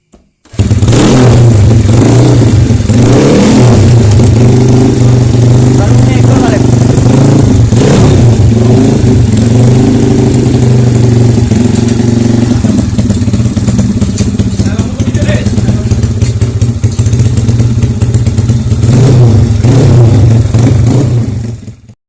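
A bore-up Yamaha Vega fuel-injected motorcycle engine, freshly rebuilt and with a remapped ECU, runs loud and close for about twenty seconds, its steady rumble swelling through repeated revs between idle stretches, with faint voices underneath.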